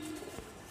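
Pigeons kept as pet birds give a soft, low coo, faint and brief, under a quiet background.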